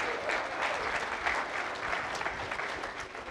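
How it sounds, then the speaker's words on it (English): Congregation applauding a student of the month during a Sunday worship service at a Church of Christ, steady dense clapping from a full room lasting a few seconds. "Give them a round of applause."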